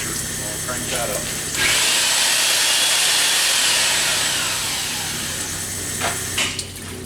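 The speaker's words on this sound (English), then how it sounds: "Now you probably heard the motor wasn't bogging down or dragging" A line honing machine runs on an MGB engine block, oil spraying: a steady, loud broadband grinding whir from about 1.5 s to 6 s, easing off slightly toward the end, with short mechanical clatter before and after.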